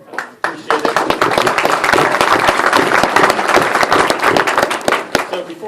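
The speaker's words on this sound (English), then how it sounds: "You really ought to give a round of applause to yourselves for such a great meal tonight." Dinner guests applaud for a great meal, dense clapping filling the room from the start and holding steady throughout, loud and close.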